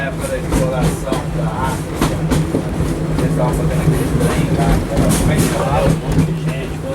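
A tourist train at Disney's Animal Kingdom rumbles steadily along its rails at about 7.5 mph, with a low engine hum and rhythmic clacking, loud and close throughout.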